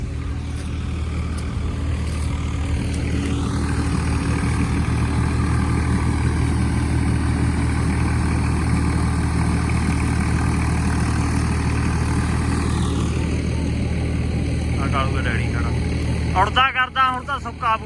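A farm tractor, a 2023 model, running steadily with a low droning engine rumble throughout, close and continuous, with a brief clatter and some voices near the end.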